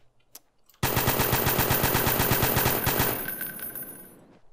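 A long burst of rapid automatic gunfire in the video game DayZ (MTA mod), loud and evenly spaced for about two seconds, then a fading echoing tail.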